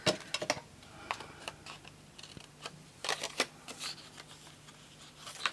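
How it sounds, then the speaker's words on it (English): Scrapbooking paper being cut down to size, close quiet irregular snips and crisp paper rustles with small clicks scattered through a few seconds, no talk. "let me cut this down to the same size"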